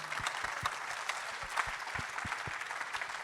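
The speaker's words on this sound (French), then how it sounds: "On peut les applaudir" Audience at an entrepreneurship conference in Dijon applauding, a steady, moderately distant wash of clapping with a few low thumps underneath.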